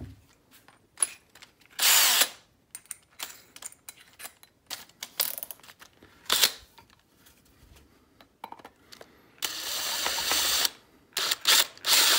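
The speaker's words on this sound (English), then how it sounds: "If you just use a step drill, it's literally just like one more step and then it fits in." A step drill widens a hole in a custom Remington 1100 shotgun stock, running in several bursts of loud whining drilling separated by short pauses, close up with clicks and handling noises in between.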